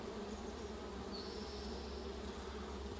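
Honey bees buzz steadily throughout a summer hive inspection, a continuous close drone of many insects with no talking.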